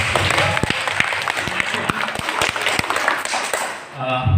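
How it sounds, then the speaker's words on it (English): An audience at a school English presentation competition claps in a loud, continuous round of applause with a few sharp individual claps, fading briefly near the end as a voice begins. "Give a big applause."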